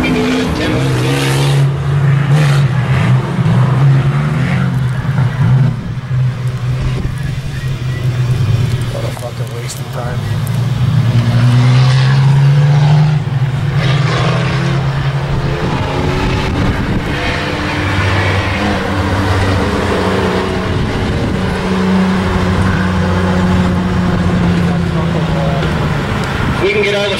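Race cars run a demo lap at Kings Park Speedway during a fall event, their engines roaring loudly and continuously with rising and falling passes near and far, while an announcer talks over the noise throughout.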